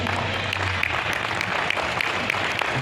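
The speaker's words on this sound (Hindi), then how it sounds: "तालियां बड़ी करिए।" A crowd at a Hindi kavi sammelan poetry gathering applauds loudly and continuously, with a dense, even clatter of many hands filling the space.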